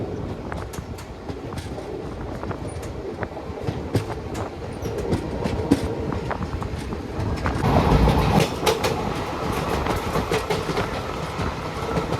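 Passenger train 12765 rolls steadily along the rails from Tirupati toward Pakala Junction with rhythmic clickety-clack and rumble, growing louder and more intense partway through.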